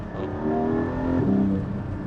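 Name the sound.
Porsche 718 Cayman GT4 engine revving on a gear change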